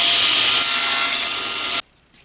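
A saw rips steadily through wood while cutting 6 3/4 inch pieces for a bee escape jig, a loud, continuous close-up cutting noise that stops sharply near the end, leaving quiet room tone.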